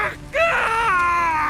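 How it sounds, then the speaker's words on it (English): A man screams in agony as he is killed in The Witcher 3 video game, a loud, strained, wavering cry that rises sharply and holds for over a second, sounding close and alone. "My ears wither from the screams."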